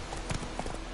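Horse hooves clip-clopping at a walk in The Witcher 3, a few soft irregular steps close by over low ambient noise, with no talk.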